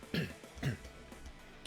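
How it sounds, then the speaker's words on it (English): Two short throaty coughs close by and fairly quiet, spaced about half a second apart, followed by faint low background sound. "Or could just cough in your ears."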